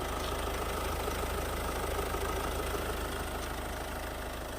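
A 1.6-litre diesel Ford Focus engine idles at normal warm temperature, a steady, even near-field clatter and hum running unbroken with no talking.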